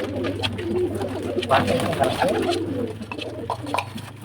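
A pigeon coos softly while being given medicine, with low, murmuring calls recurring through the few seconds under a nearby person's speech.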